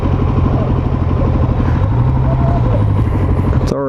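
A 2019 Suzuki DRZ400 SM, a 400 cc single-cylinder motorcycle, running with a loud, close, steady thumping engine beat that rises slightly in pitch partway through.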